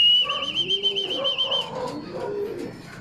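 Racing pigeons coo close by in soft, throaty rolling calls, with a thin high whistle at the start.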